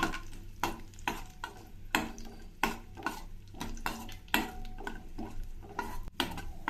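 Raisins frying in a pan as dressing for rava boondi kheer, a soft sizzle under repeated rhythmic scrapes and clinks of a spoon stirring against the pan, close and fairly quiet, with no talk.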